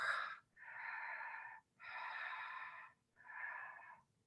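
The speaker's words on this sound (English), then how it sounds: "it happens by creating a gentle, gentle constriction at the back of your throat so that when you're breathing in and you're breathing out, it creates that noise" Ujjayi yoga breathing with a gentle constriction at the back of the throat: four slow, hissing, Darth Vader-like breaths alternating in and out, close and soft, with short pauses between them and no talking.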